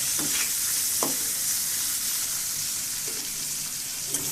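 Boiled pointed gourd and potato fry in oil in a pan with a loud, continuous hiss, broken now and then by soft utensil scrapes and taps and no speech.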